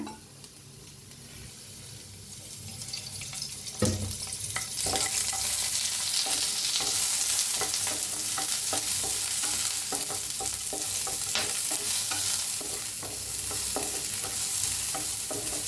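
Ingredients for Mysore dosa are roasted in a little oil in a pan, with a steady close sizzle and repeated spoon scrapes and stirring clicks throughout, no talking.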